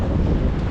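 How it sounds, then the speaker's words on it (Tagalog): Cold wind gusts steadily at a bus stop in Canada, a dense low roar buffeting the microphone with no pause and no voices. "Mahangin, malamig."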